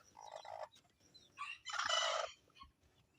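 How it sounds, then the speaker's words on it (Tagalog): A brooding bantam hen utters a few short, soft clucks and throaty vocalizations in quick bursts. The sounds come up close in an otherwise quiet setting. "So, nandito na si Puti, yung isang bantam hen natin"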